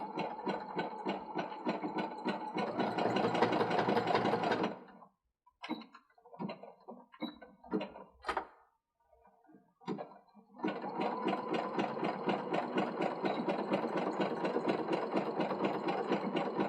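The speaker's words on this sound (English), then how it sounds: "You're just going to stitch a couple of passes back and forth." Sewing machine stitching back and forth on a makeup brush kit, a long steady run, then a stretch of quiet handling clicks, then another long steady run, close and clear, no talking.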